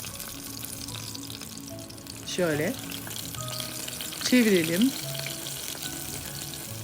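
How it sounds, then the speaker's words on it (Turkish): Battered eggplant fries in sunflower oil, sizzling and crackling steadily in a pan while a voice speaks briefly, with a couple of short, louder bursts of frying noise. "Bir bardak ayçiçek yağında kızartıyorum."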